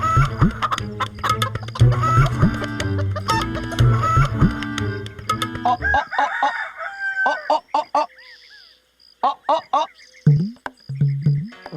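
A red rooster clucks in short, sharp bursts with gaps between them, coming after a louder, busy stretch of mixed sound with voices.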